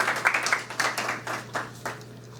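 Audience applause at a book launch for an Urdu novel: a short burst of scattered clapping from a modest crowd, fairly close, fading out after a couple of seconds.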